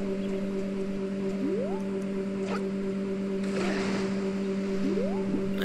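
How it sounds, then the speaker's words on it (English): Engine-like hum of a racing beaver in the video game Zelda: Majora's Mask 3D, a steady tonal drone with rising pitch sweeps over watery ambience, continuous and fairly loud throughout. "Beavers in this universe have engines for some reason."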